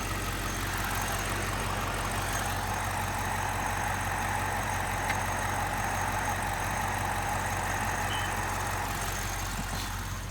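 A 2006 BMW X5 4.4i with a very hard brake pedal idles, a steady, low engine rumble without change, a continuous drone with a faint mechanical hum and no talking.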